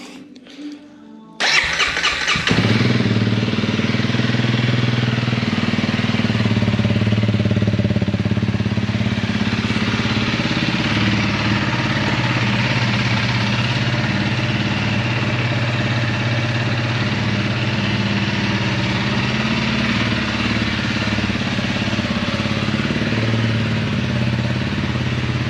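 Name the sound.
Honda CRF 300L motorcycle engine starting and idling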